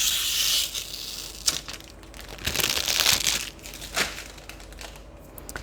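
Protective film is peeled off an acrylic sheet for a Mother's Day craft, with close crinkling and crackling in uneven bursts and a few sharp snaps as the plastic pulls away.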